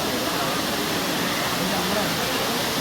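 Areekkal waterfall pours with a steady, loud, unbroken roar of rushing water close by.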